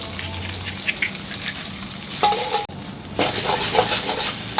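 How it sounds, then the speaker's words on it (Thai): Two eggs frying in a wok with thin rice noodles for a pork stir-fry, a loud close sizzle with scraping and stirring bursts, a brief drop in the middle before the hiss returns stronger. "ผมก็จะเอาไข่ใส่ไปเลย ใส่ไข่สองฟอง"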